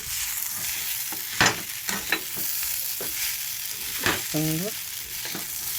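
Peanuts and egg bhujia being stirred in a frying pan, a steady sizzle punctuated by sharp scrapes and knocks of the spatula against the pan, with a short spoken word over it.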